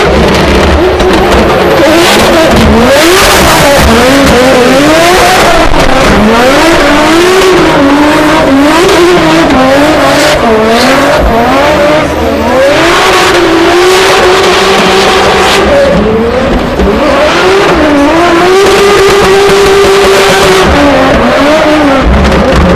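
A drift car's engine revs hard and continuously during a competition run, loud and close, with rising and falling pitch sweeps and occasional tire noise.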